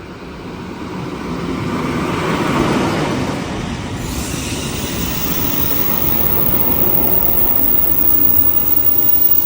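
A passenger train rolls into a station, its broad steady rumble swelling to a peak and then holding as a continuous loud roar throughout, with no voices.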